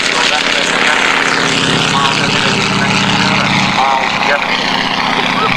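An aircraft moves onto the runway to line up for takeoff, its loud, steady engine drone filling the whole stretch while a person talks over it.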